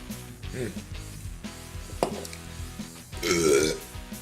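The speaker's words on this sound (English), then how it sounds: "These cokes keep giving me burps. I keep burping on camera." A few loud, croaky burps after drinking cola break through room noise, one sharp and another drawn out and deep near the end.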